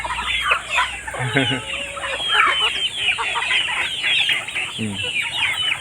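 Ducks at a simple farm feeder, with one separated duck calling as it runs back to rejoin the flock. Repeated close quacking, clucking calls rise over a steady background hum.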